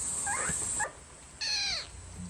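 A kitten cries twice in short, high-pitched mews, the second longer and clearer, close by in a quiet room.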